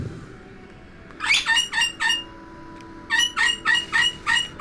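A pet bird clucks and squawks close by in two rhythmic runs of sharp, evenly spaced calls, separated by a short quieter pause.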